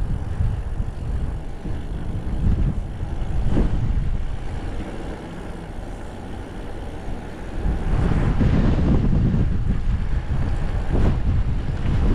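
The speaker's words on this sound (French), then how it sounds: "là j'ai le vent de face là" Headwind buffets the microphone while riding an electric-assist mountain bike around the Yesa reservoir, a steady low roaring rumble that swells louder in gusts toward the end, with no talking.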